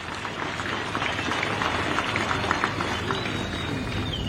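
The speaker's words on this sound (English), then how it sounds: "May we clap for Mingomba and the partners." Outdoor crowd applauding at the groundbreaking ceremony for the Mingomba copper mine in Chililabombwe, Zambia: dense, steady clapping from many hands, sustained at even loudness throughout.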